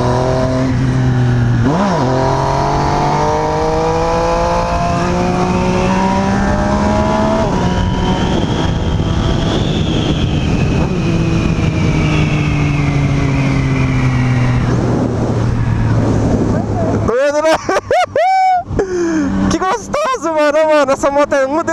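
A motorcycle engine drones steadily while riding with a passenger on the back, its pitch rising and falling as it revs, with a person talking over it and a burst of louder revving near the end.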